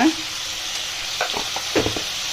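Ridge gourd frying in oil in a pan, a soft steady sizzle under a few brief stirring scrapes and clinks, close and moderately quiet, no talking.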